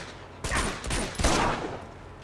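Gunfire from the video game Uncharted 2, a couple of loud, sharp shots with short echoing tails close together, followed by a brief lingering rumble, with no talk over them.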